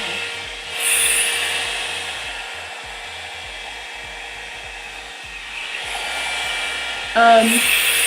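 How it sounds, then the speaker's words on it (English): A handheld hair dryer blows steadily while hair is straightened from curly, a continuous close whooshing drone that swells at times, with faint talk underneath. "The important part when you blow dry is that from root to tip, you're letting the heat set it."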